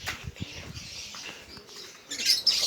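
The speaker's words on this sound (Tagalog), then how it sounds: "Painumin na natin sila mga kalapatids." Pigeons are given clean drinking water, and several wings flap and flutter close by amid soft cooing and chirps, with a louder burst of flapping at the end.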